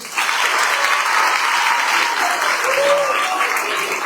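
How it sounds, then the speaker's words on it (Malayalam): A seated audience claps steadily for two teachers, a dense, even wave of applause that holds loud for several seconds with a faint voice briefly underneath. "രണ്ട് മാഷന്മാർക്കും നിങ്ങൾ കൈയടിച്ച്"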